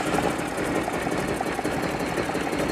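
A Harley-Davidson motorcycle engine starts and settles into a steady, rapid mechanical idle, loud and continuous with dense rhythmic pulsing throughout.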